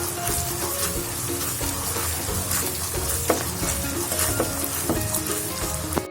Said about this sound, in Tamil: இந்த மாதிரி நல்லா மிக்ஸ் பண்ணிட்டே இருங்க.